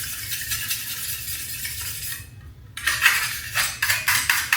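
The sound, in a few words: razor blade scraping drywall compound off a putty knife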